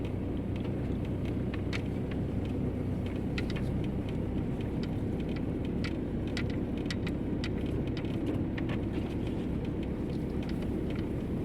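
A car drives steadily along a road toward a forest, a constant low rumble of engine and tyres with faint clicks and rattles on top, no talk.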